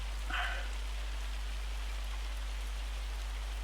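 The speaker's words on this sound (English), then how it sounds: "So we've got some hail coming through" Hail pattering steadily in a farming video game set on Montana's Judith Plains, a constant hiss of falling ice over a low hum, with one brief brighter burst near the start.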